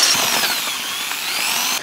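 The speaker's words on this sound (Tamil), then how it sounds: "அந்த சென்டர்லேயும் வந்து ட்ரில் பண்ணி ஓட்டை போட்டுக்கிறேன்" A power drill bores a hole through a handlebar pipe for a homemade bicycle car, giving a steady, close, high-pitched grinding whine that runs without a break and cuts off at the end.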